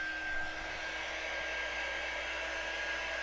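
Hair dryer blowing continuously to dry paste on the edges of a wooden breadboard, a steady loud whooshing hiss with a faint whine, no pauses.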